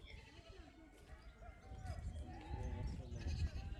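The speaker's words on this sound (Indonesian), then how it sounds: "Nah terus di sini ada kambing." Goats at a zoo in Turkey bleat repeatedly with wavering cries, close by, over a murmur of crowd and outdoor noise.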